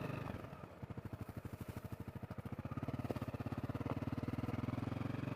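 A Honda CRF250L dual sport motorcycle rides a trail, its single-cylinder engine chugging in a steady close pulsing rhythm that thickens and grows slightly louder partway through, with faint clatter over the top.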